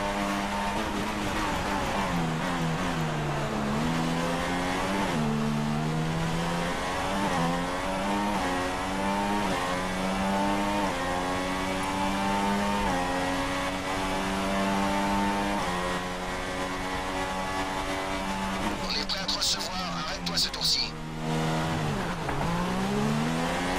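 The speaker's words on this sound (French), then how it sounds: "Débridez-moi ce moteur Renault, putain!" A Renault Formula 1 engine in a racing video game at the Abu Dhabi Grand Prix, loud and continuous, climbing and dropping in pitch through repeated gear changes, with a brief screech near the end.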